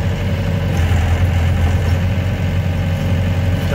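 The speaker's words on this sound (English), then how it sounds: "See how easy the skid loader can pick it up?" A skid loader engine idles on a farm, a steady, loud, low mechanical rumble with constant vibration and no talking.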